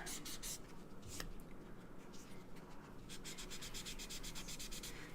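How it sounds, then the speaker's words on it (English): Sanding pad rubbed over a wood-burned portrait, giving steady soft scratchy rubbing strokes, with a burst of quicker repeated strokes near the end, close and fairly quiet throughout. "So these are those nice little sanding pads by M-Jump."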